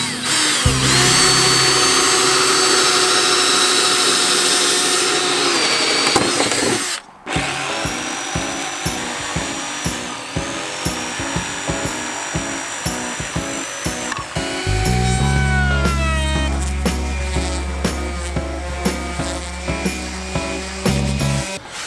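A power tool, likely a jigsaw, cuts a big circle out of wood, loud and sustained with rapid rhythmic chattering, a short pause midway, then continuing with a deeper motor tone, no speech.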